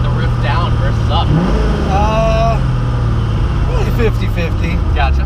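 A Koenigsegg Agera RS in track mode gives off a steady low engine drone from inside the car, with people talking over it throughout.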